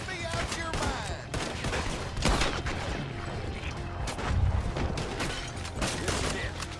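A video game shootout in Red Dead Redemption 2: dense, rapid gunfire crackles nonstop, overlapping shots and bursts with heavy booms and rattling, loud and close throughout.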